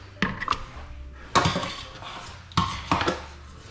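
Butternut squash puree going into a mixing bowl for a pie, heard as three short bursts of spoon clinks and scraping against the bowl with quiet pauses between, no talking.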